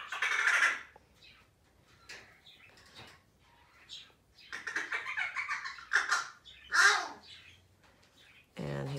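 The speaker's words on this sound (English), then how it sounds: "you get to listen to the birds outside." Birds outdoors beyond an open window, with crow-like caws and calls coming in irregular bursts, moderately loud, mixed with faint indoor rustling.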